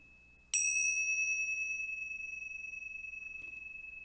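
One strike on a small bowl or chime during a church service, a bright metallic ding that rings on steadily and slowly decays, heard alone in a quiet space with a soft click late in the tail.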